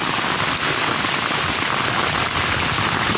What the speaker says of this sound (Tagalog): inabot ang ganito ulan, o hangin